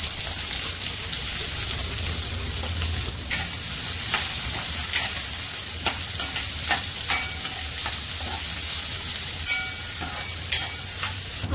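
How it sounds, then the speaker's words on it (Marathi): Onions frying in oil at a steady, close hiss that carries throughout, punctuated by about a dozen sharp scrapes and taps of a spatula stirring the pan. "आता या सेम तेलामध्ये आपण कांदा फ्राय करून घेऊया।"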